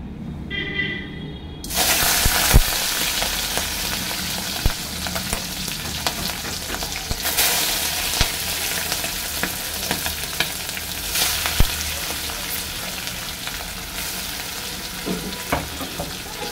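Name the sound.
prawns frying in hot oil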